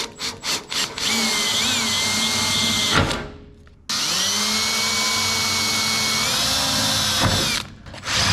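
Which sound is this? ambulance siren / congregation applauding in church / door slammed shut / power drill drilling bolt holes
power drill drilling bolt holes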